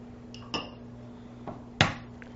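Eggs rapped against the side of a bowl, a few sharp separate cracks with the loudest near the end, set over a low steady background hum, with no talking.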